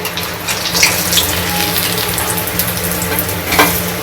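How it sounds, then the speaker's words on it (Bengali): Egg and lentil pieces fry in hot oil, giving a loud, steady, close sizzle with crackling pops throughout and no voices. "কত সুন্দর দেখুন ভাজাটা হচ্ছে লাল লাল করে।"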